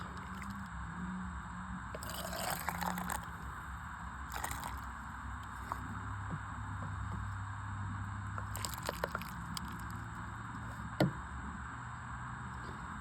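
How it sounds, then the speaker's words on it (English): Zucchini dill relish is spooned into home canning jars: quiet wet squishes and soft scoops with a few light clinks against glass, faint over a steady background hum. "I'm just going to get my jars filled with the relish"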